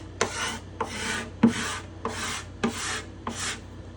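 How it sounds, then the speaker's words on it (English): A hand scraper drags across a dusty surface in six evenly spaced strokes, each a short bright rasp about half a second apart, close and clear with no talking. "I'm gonna choose a scraper."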